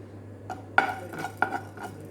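A pan set on a stove and fenugreek seeds tossed in make a handful of sharp metallic clinks and rattles, spaced irregularly over a quiet room hum.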